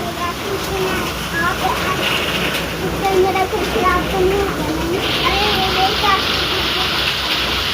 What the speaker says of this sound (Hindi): कितनी तेज बारिश है।